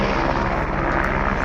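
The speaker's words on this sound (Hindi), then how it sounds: "वो देखो सामने हेलीकॉप्टर।" Aircraft engine noise, most likely a helicopter flying near Kedarnath beside a tented camp, gives a loud, steady broadband roar with faint rotor pulsing. It holds without break and no talk is heard.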